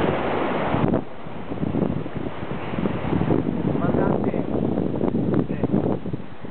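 Strong wind buffets the microphone aboard a sailing yacht racing in the Giraglia Rolex Cup, a loud continuous roar with gusty swells and water noise, while people talk underneath.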